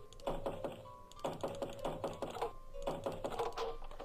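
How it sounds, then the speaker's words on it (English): Knocking on a wooden board in a horror video game, several rapid clusters of close, dull taps in bursts with short pauses between them. "I had to keep knocking on that one"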